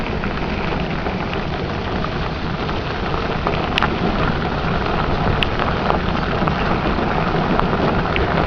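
Bicycle tires crunch steadily over a loose gravel park path in a continuous gritty hiss, with a few faint clicks and no voices.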